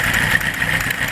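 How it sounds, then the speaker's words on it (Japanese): A Kawasaki KZ1000 Mk II motorcycle with a Nitro Racing megaphone-type muffler rumbles steadily and loudly at close range, its deep, throbbing exhaust note continuous throughout. "ナイトロレーシングさんのマフラー音"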